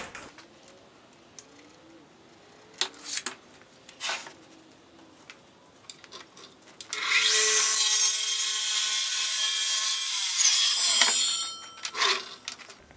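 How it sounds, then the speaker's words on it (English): A wooden board is cut to 36 inches for an Adirondack chair, a steady loud power-saw whine running for about four seconds, preceded and followed by scattered clunks and handling knocks. "We're going to cut this down to 36 inches because we only need 1."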